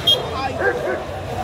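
A female pit bull at a Friday dog market gives short yips and barks, close and fairly loud, amid people talking and general crowd noise.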